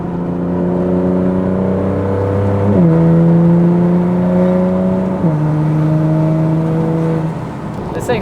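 Nissan GT-R engine drones steadily as the car drives and accelerates over a bumpy road, its harmonic tone climbing through two gear shifts, loud and close throughout before easing off near the end.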